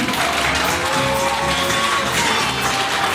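Applause at a Ukrainian wedding celebration led by a toastmaster, a dense steady patter of many clapping hands filling the room, with a faint sustained tone underneath.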